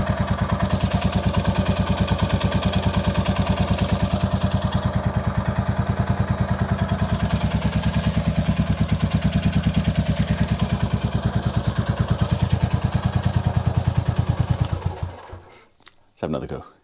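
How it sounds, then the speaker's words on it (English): A Royal Enfield Classic 350 motorcycle engine idles steadily with a rapid, even ticking clatter from noisy tappets, running for a long stretch before cutting out abruptly. "Yeah, the tappets are quite noisy."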